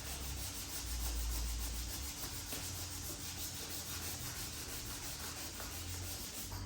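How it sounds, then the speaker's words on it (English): Close, continuous scratchy rubbing as chipped paintwork on a Corsa D SXI car body is sanded through, with an even back-and-forth texture and no voices. "A couple of bits here that need sanding through because they're little chunks out of the paintwork."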